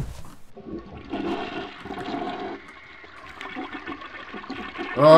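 Toilet flushing in a bathroom within the Paranormal horror video game, a loud rushing, gurgling water surge lasting several seconds and swelling again at the end.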